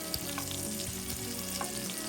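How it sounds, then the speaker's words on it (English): Italian sausage and fennel meatballs frying in a pan, a steady crackling sizzle with occasional sharper pops, moderately quiet and close, with no talking. "Frying them like this in the frying pan won't cook them enough."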